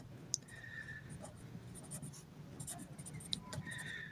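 Pen writing on paper during a Class 6 maths lesson: faint, continuous scratchy strokes with a couple of light taps, close by and with no talking.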